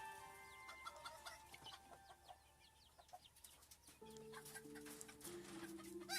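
Birds cluck and call steadily in the background, with a rooster-like crow rising near the end, fairly close and lively.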